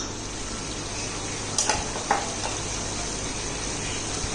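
A tablespoon of homemade ginger garlic paste fries in a hot pan with a continuous close sizzle, broken by a couple of brief utensil clinks, with no voices.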